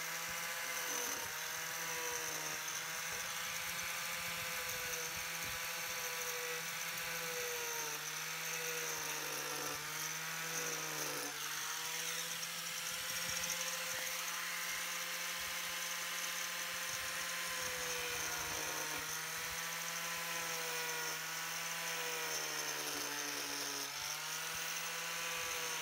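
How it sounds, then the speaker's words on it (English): An Arbortech power carver fitted with small tungsten teeth chips into hardwood, its motor holding a steady high whine with pitch dips as the blades bite under load, loud and close for the whole stretch. "has got little tungsten blades on there which just chip up and carve the hardwoods that I work on"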